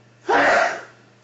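One sharp, close sneeze bursting out after a short quiet moment, then fading quickly.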